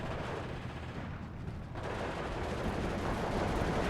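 Dense, continuous gunfire rattles through a Steel Division 2 battle, a steady wash of overlapping shots and bursts that holds loud and unbroken for the whole stretch.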